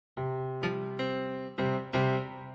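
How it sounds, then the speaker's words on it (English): Piano Uno software piano on its concert preset plays five separate notes or chords in a slow sequence. They are clean, sustained and close, each new strike cutting in over the last, with no voices. "calling up the Piano Uno with the concert preset, and it sounds like this"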